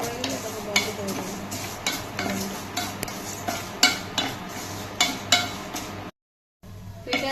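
Something frying in a pan for an easy dessert, turning reddish-brown, with a spoon scraping and stirring in repeated clinking strokes over a steady sizzle, then a brief gap of silence.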